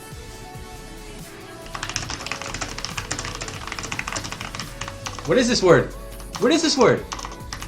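Rapid typing on a computer keyboard during a typing race, a dense, fast patter of close key clicks running for several seconds while someone talks over it.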